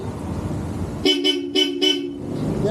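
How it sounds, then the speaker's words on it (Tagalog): A Bosch Europa horn and the stock horn on a Honda ADV 350 scooter sound together in four short, loud honks of about two per second, over a light background hum. "parang gumagana yung stock horn saka yung Bosch Europa"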